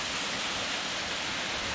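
A waterfall rushes inside a cave on a spring day, a loud, continuous broadband roar with no breaks, close and enveloping, with no voices over it.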